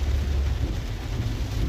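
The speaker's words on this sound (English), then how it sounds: "I'm driving in this rain this morning to go to work" Heavy rain heard from inside a car while driving, a steady loud broadband wash with deep low rumble from the road and engine underneath, continuous throughout with no talking.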